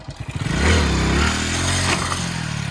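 A Hero Splendor 100cc motorcycle engine revs hard close by, climbing from a few sputtering blips into a loud, sustained roar for a wheelie attempt, then settling into a steady throbbing idle.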